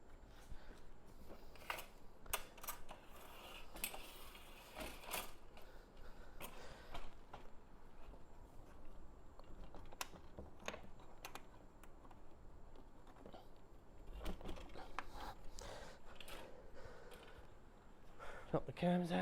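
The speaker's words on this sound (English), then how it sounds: "Release the cams, fold out the legs, lock the cams back down again." Folding MFT workstation table being set up, with cams released, legs unfolded and locked back down: a series of sharp clicks, clacks and knocks scattered over quiet handling noise, with people talking in the background.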